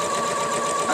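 A sewing machine runs steadily and close up, stitching bias binding onto the armhole of a pillowcase being made into a sundress, in one brief continuous whir.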